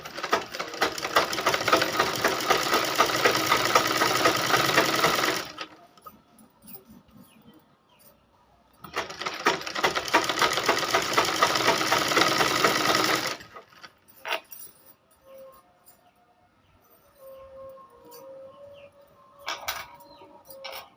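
A sewing machine stitches two pieces of blouse fabric together in two long steady runs of fast, close rattling, separated and followed by quieter handling noises.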